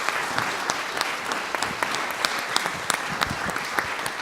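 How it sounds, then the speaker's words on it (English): A dense round of applause from a conference audience, steady throughout with individual sharp claps standing out near the front. "please give a round of applause"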